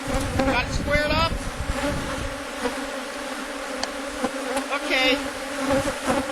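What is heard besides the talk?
honey bees buzzing and flying around a hive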